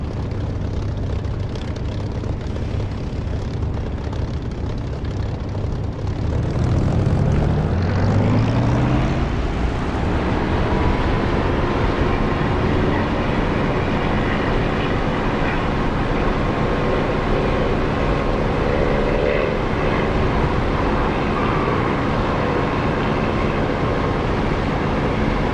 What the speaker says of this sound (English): Well, that was a pretty terrible takeoff.